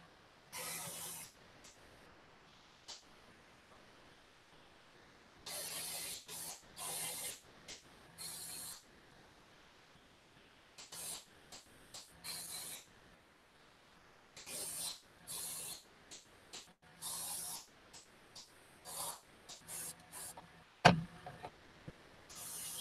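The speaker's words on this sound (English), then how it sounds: "Just spray it here, there, and everywhere." Short hissing bursts of an aerosol spray repeat irregularly, quiet and close, separated by pauses, with a sharp knock near the end, as a miniature figure is spray-painted in little patches all over.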